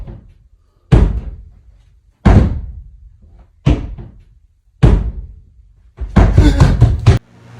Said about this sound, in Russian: Он отпирает дверь в подвал